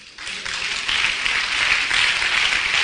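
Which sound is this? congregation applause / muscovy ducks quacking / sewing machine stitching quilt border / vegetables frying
congregation applause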